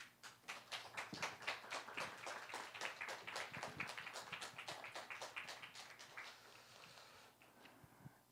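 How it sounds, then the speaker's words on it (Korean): A church congregation claps at a Seoul church service, with quick, fairly even hand claps building into a steady round of applause that thins out near the end, heard from a distance and fairly faint. "뜨거운 박수로"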